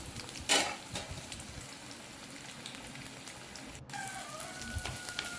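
Chopped shallots and onions sauté in oil in a pan for egg gravy, giving a soft, steady sizzle with scattered crackles and an occasional scrape or clink of a utensil, no talking.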